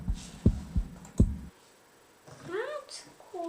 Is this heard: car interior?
no